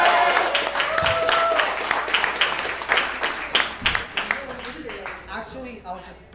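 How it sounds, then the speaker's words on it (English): An open mic café crowd gives a warm round of applause for a performer named Alvin, steady clapping that thins out toward the end as voices talk underneath. "let's have another warm round of applause for Alvin"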